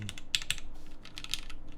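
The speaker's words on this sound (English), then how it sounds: "So let's stop this and try typing on this." Fast, crisp key clicks from a QK Alice Duo mechanical keyboard, typed in quick bursts close to the mic with no talking.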